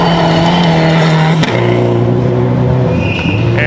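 A 3,200-pound turbocharged rally car runs hard on dirt forest roads at the Pacific Forest Rally, its loud, close engine note holding steady, then dropping and climbing again through gear changes with no talk over it.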